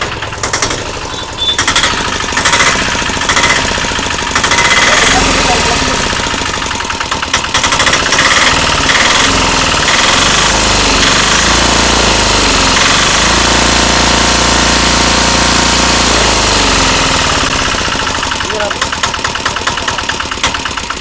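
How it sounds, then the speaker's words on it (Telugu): Right after starting, a Piaggio Ape BS3 auto rickshaw's engine knocks with a loud, rapid, harsh rhythmic clatter that runs close and unbroken, with someone talking over it at times. "లాస్ట్లో మనం బండి స్టార్ట్ చేయడం పట్ట పట్ట అని కొడుతుందనమాట"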